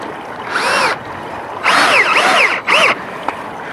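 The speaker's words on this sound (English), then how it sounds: "I'm screwing all of them in" A power drill drives screws into a wooden Arris rail bracket while a fence is being repaired, with three loud whirring bursts rising and falling in pitch, separated by short pauses.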